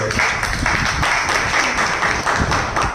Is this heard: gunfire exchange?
no